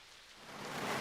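Steady rain hisses as a broad, even wash of noise that swells slightly louder over a brief moment, with no voices.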